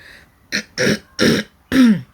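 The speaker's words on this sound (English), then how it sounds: "sorry about the cough and the throat irritation" Four short bursts of a man clearing his throat and coughing, close and dry, the last ending in a rough rasp, with brief quiet gaps between.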